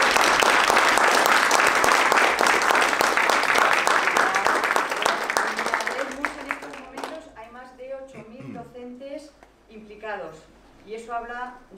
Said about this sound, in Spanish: se han ganado un aplauso muy fuerte